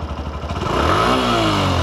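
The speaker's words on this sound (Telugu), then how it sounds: "ఒకసారి మనం బండి స్టార్ట్ చేసి చూపించేస్తాను. చాలా క్వైట్ రిఫైన్డ్ థంప్ అనేది మనకి వినిపిస్తుంది." A Hero Glamour X 125 motorcycle engine, recorded up close and loud, settles from a low idle thump and then revs up into a sustained, rising engine note.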